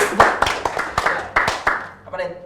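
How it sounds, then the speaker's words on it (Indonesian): An audience claps in a brisk series of sharp, distinct bursts, about eight loud claps in an uneven rhythm, close and clear, before a softer patter at the end. "Tepuk tangan sekali lagi."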